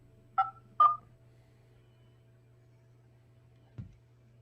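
Two short touch-tone telephone keypad beeps sound close together, followed after a quiet pause by a brief low click, over a steady faint hum with no talking.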